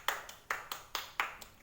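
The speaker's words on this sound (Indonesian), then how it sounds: "beri tepuk tangan untuk kelompok Mbak Dewi Susilowati" A classroom claps for a student group, a soft, faint patter of a few hands with about six distinct claps spaced unevenly over a second and a half.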